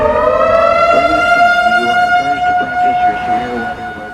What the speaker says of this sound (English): Monthly sirens are used to practice emergency weather procedures